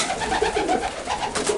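Pigeons coo in a loft, soft repeated throaty burbling calls overlapping close by over a steady rustling background.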